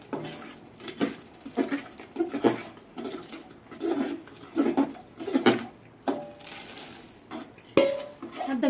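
Peanuts being stirred in a metal pan on a gas stove, giving a steady series of close scraping and clinking strokes in an uneven rhythm, with no talk.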